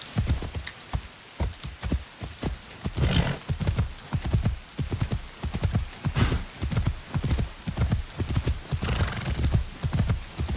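Hooves clip-clop in a quick, steady rhythm as a horse neighs now and then, close by and fairly quiet, in the video game Assassin's Creed Shadows.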